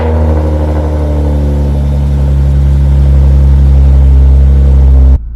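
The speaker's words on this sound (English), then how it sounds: "a little cold start" Lexus IS350 V6 cold start, a loud close engine holding a steady high idle with a smooth droning hum for about five seconds before cutting off abruptly.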